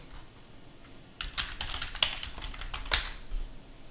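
Keys clatter on a computer keyboard as a short Linux terminal command is typed, a quick cluster of light taps nearby after a second of quiet.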